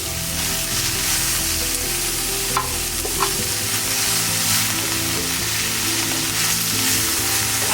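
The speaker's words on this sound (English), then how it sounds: "we'll be sauteing until everything, all the greens cook well and shrunk up in size" Coriander leaves and greens sauteing in a pan for mutton donne biryani, a loud, steady sizzle with a few scraping stirs, over a low hum that cuts out partway through; no voices.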